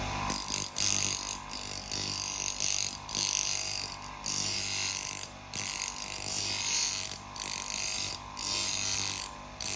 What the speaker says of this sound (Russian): И с торца камешка начинаем точить это место.